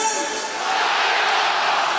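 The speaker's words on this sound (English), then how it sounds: "The announcer says burnt and the crowd shout Schneider." A stadium crowd at a 2007 UEFA Cup football match between Bayer Leverkusen and Rovers roars together in a loud, dense, sustained wash of voices, shouting a player's name after a goal announcement.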